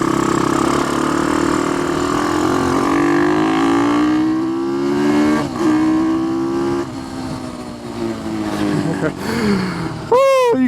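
An Ohvale GP-0 190 minimoto accelerates hard on a top speed run, its engine note climbing steadily in pitch under constant wind rush, dipping briefly at gear changes before pulling higher again near the end.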